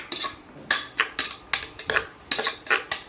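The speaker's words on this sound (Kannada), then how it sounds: "ಸೊ ಇದು ಸ್ವಲ್ಪ ಬ್ರೌನಿ ಕಲರ್ ಬರೋ ತನಕ ಫ್ರೈ ಮಾಡ್ಕೊಳ್ಬೇಕು ಈರುಳ್ಳಿ ಎಲ್ಲ" Onions fry in a pan on an electric stove, and the dominant sound is a run of rhythmic metal scrapes and clinks as a utensil stirs against the pan, about three or four strokes a second, close and clear, with no talking.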